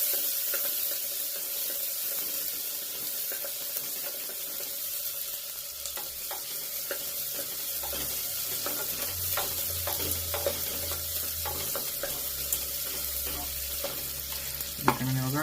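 Onion and tomato frying in a pan for homemade pulao: a steady, close sizzle with spoon-stirring scrapes and faint spatters, and a low hum joining midway; no speech.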